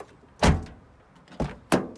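Thin, hollow door panel of a Toyota LandCruiser 76 Series before sound deadening, knocked three times close by: a single rap, a pause, then two quicker raps, each sounding tinny and resonant.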